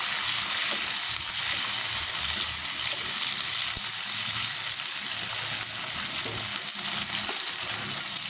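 Chicken skin, gizzard and other pieces frying lightly in a pan with onion and cumin, a continuous close sizzle with soft stirring and occasional watery bubbling, unbroken by speech.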